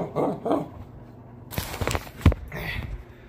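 A puppy whimpers in short soft bursts, then gives a few scrabbling yips and a sharp bark, close by indoors with no talk.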